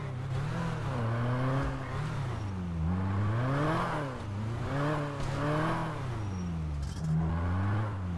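A loud car engine in GTA V revs repeatedly, its deep tone climbing and dropping in rhythmic swells for the full stretch, close and dominant with no talking.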